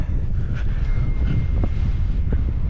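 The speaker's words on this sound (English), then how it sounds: "the wind's really picked up" Strong wind buffets the microphone at a summer wild camp, a loud continuous low rumble with gusty swells throughout and no speech.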